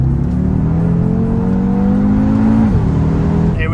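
A Ford Focus RS with four-wheel drive accelerates hard, its engine note climbing steadily and loud and close, then dropping abruptly as it shifts near the end.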